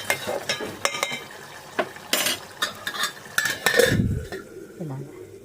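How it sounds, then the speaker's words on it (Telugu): A spoon stirring egg curry (egg iguru) in a metal pan on low heat: repeated scraping clinks and light taps against the pan over a soft sizzle, close and clear, with no talking. "ఒక్కసారి కలిపి సిమ్లో పెట్టేసుకుందాం"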